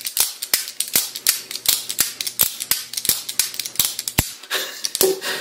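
A Demko AD20.5 folding knife is flicked open and shut again and again, producing a fast series of sharp, crisp clicks and snaps, close up with no voices.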